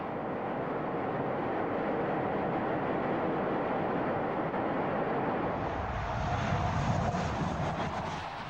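Steady jet engine roar from a MiG-15 Soviet fighter aircraft, a continuous loud rushing drone that shifts in tone toward the end.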